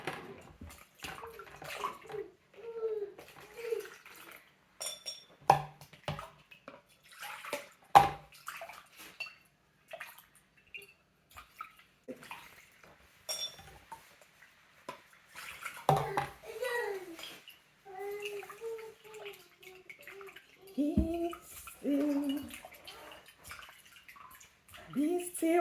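Dates are rinsed in water, with faint splashing and sloshing in a bowl under intermittent talk and a voice.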